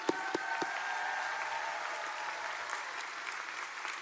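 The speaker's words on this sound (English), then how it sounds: "Let's all hear a round of applause for them." A college commencement crowd claps for parents and family, steady massed applause with a few sharp nearby claps at the start, holding an even level throughout.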